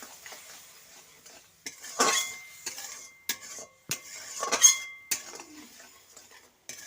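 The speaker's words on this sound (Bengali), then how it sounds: "দিয়ে দিচ্ছি একটু জিরে গুঁড়ো মশলাটা একটু ভালো করে কষে নেবো আমি" Cumin powder and spices being stirred in a pan, with intermittent scraping and clinking of a utensil against metal at close range, spaced by pauses, under a faint sizzle.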